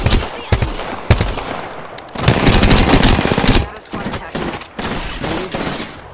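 Rapid automatic gunfire in a battle royale shooter match in Apex Legends: loud close bursts and sustained volleys of rattling shots, with brief gaps between strings of fire.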